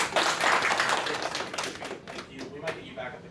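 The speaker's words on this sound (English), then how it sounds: "Give a round of applause though" Audience applause at a convention anime game-show panel, PortConMaine 2022: dense, steady clapping from a crowd for about two seconds, thinning into scattered claps toward the end, with voices heard alongside.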